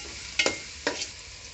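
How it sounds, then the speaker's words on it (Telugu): Chopped onions sizzle in a pan for a village-style fish curry, with two quick stirring scrapes standing out over a steady soft frying hiss. "బాగా ఎర్రంగా వచ్చే వరకు అడుగు మారకుండా వేపుకోవాలండి."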